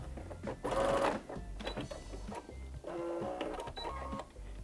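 A sewing machine stitches fabric for handmade fabric snowballs, running in short quiet bursts with brief pauses between them, close by, with almost no talk.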